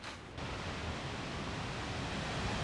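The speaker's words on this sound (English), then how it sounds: "My heart races faster as the sound of the waterfall gets louder." A large waterfall with abundant water in East Africa, a loud, steady, dense roar of falling water close by that holds without a break.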